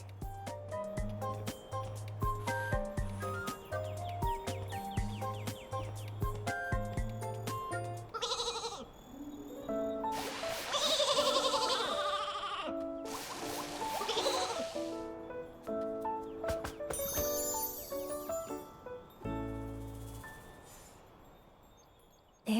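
A Flora sheep in the video game Infinity Nikki bleats over a bright, plinking game melody and sound effects, with bursts of louder noisy effects in the middle.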